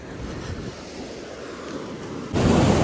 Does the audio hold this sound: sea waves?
yes